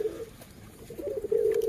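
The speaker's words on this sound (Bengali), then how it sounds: "আর কত সুন্দর ফ্রেশ কবুতর" A freshly caught pigeon coos softly and close by, giving low, rolling, drawn-out calls, one short coo and then a longer, fuller one after a brief pause.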